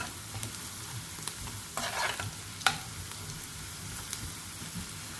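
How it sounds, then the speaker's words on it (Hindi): Red chilli powder sizzles in a hot oil tadka for chana masoor dal, a steady, soft frying hiss with a few stirring scrapes and small crackles. "लाल मिर्च पाउडर डालेंगे ताकि इसका रंग अच्छा हो जाए, या कश्मीरी लाल मिर्च जो है वो डाल दीजिए।"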